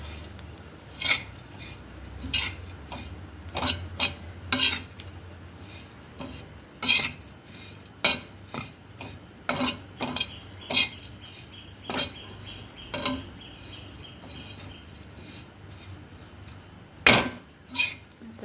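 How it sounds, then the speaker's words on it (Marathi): Onion and coconut sauté in oil in a pan for a Maharashtrian chicken kala masala, heard as repeated metal clinks and scrapes of stirring at an irregular pace over a quiet background. "त्याला हा कांदा आणि खोबरं परतून घ्यायचं त्या तेलामध्ये"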